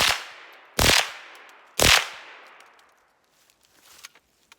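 A Voere 2005 .22LR open-bolt machine gun fires two sharp, loud bursts about a second apart outdoors, each ringing off into a decaying echo before faint rustling.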